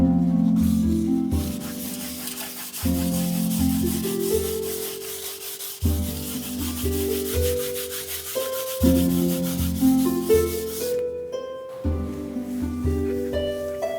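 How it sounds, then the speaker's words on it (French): Light hand sanding over a varnished wooden parquet floor at a repaired burn mark, repeated close back-and-forth rubbing strokes heard alone, each pass a rough hiss rising and falling. "poncer très légèrement sur le dessus pour bien aplanir la vitrification"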